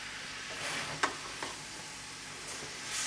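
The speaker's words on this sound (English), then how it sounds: "Going to mix everything up now." Food being stirred and mixed in a pan with a soft sizzle, a couple of brief scraping knocks and a gentle continuous hiss, close up and alone.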